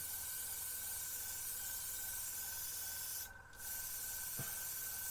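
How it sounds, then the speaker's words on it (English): Airbrush spraying paint in a fine cone with its compressor running, a steady close broadband hiss throughout that briefly dips partway through, with a short faint click near the end. "you can hear the airbrush, the compressor kicking in"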